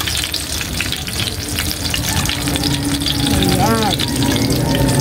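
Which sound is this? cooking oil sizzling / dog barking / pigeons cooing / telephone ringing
cooking oil sizzling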